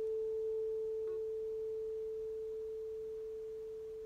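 A tuning fork tuned to A, struck hard on a solid surface, rings as a single steady pure tone that slowly fades over several seconds, with no talking.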